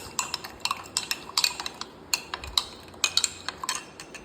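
Powdered sugar being mixed in a bowl with a spoon: a string of light metallic clinks and scrapes of utensil against the dish, close and fairly quiet, in an irregular stirring rhythm with no talk.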